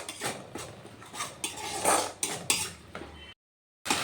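A spoon scrapes and clinks against a pan as spices and ginger paste are stirred and sautéed for a dahi pabda fish curry, in irregular metallic strokes with a brief pause of silence near the end.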